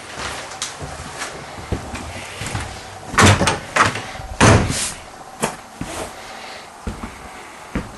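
A screen door on a Cherokee Greywolf 39PARK travel trailer slides and rattles through a series of clattering bumps and sharp knocks, close and fairly loud, with no talking.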